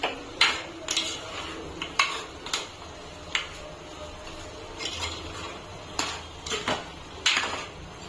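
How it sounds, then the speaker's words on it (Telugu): Chicken curry with salt and garam masala stirred in a pan, a spoon scraping and clinking against metal in irregular bursts, fairly close, with quiet gaps between strokes and no talk. "ఇప్పుడు ఒకసారి కలిపేసుకుందాం"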